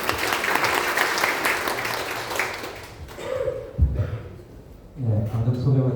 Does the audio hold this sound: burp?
no